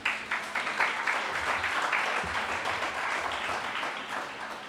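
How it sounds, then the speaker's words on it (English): Audience applause for parents, guardians and supporters at a school award ceremony: a steady, dense wash of many hands clapping, continuous and fairly full, with no voices over it. "Let us pause once more for a round of applause for our parents and guardians and our supporters."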